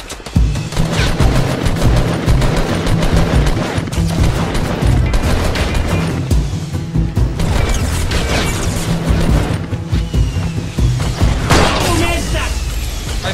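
Rapid bursts of automatic gunfire in the video game Fortnite, loud and dense, with heavy booms and overlapping shots running throughout, while voices talk over the shooting.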